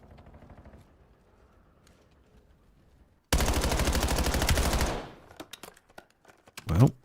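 Gunfire from a Call of Duty match, a dense sustained burst of automatic fire lasting about two seconds after a quiet stretch, followed by scattered single sharp shots and a brief louder sound near the end.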